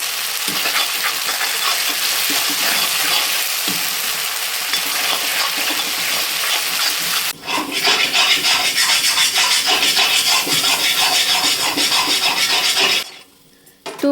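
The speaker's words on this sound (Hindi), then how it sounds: "तो मसाला हमारा अच्छी तरीके से भुन गया है।" A ground onion, garlic and ginger masala paste fries loudly in a pan with a steady, dense sizzle and scraping stirs, cutting briefly near the middle and dropping away at the very end, with no talking.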